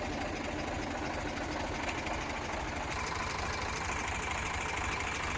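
An Eicher 485 diesel tractor engine idles with a steady, rough low chugging, running continuously at an even pace without voices.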